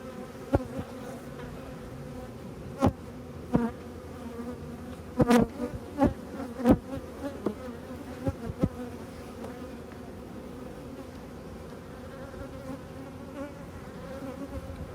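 Honey bees drone in a steady buzzing swarm around an apiary hive on a university campus, close and continuous, with a few sharp clicks and knocks breaking through the hum.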